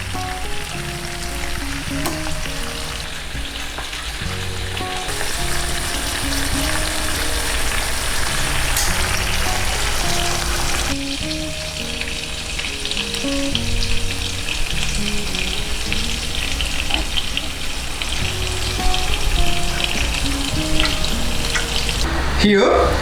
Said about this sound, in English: now let the chicken fry for another 2 minutes.